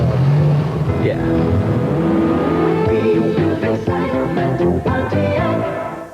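Car with a 3-liter fuel-injected V6 engine revving hard, rising engine pitch sweeping upward over several seconds, close and loud, with brief talk over it.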